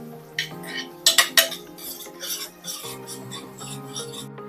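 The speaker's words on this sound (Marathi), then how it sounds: "कांदा दोन ते तीन मिनिटासाठी फुल गॅसवरती चांगला परतून" Chopped onion and garlic are stirred in oil in a pan over full gas, with a spatula scraping and clinking against the metal in a burst of quick strokes, then slower rubbing strokes and a faint sizzle underneath.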